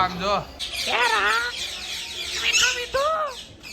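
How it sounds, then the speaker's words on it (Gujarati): A peacock calls at a zoo, a few loud, piercing rising and falling cries over outdoor background noise, with other bird sounds around it. "એ મોર બોલે આમ જો"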